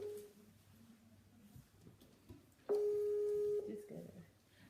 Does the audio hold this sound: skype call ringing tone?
yes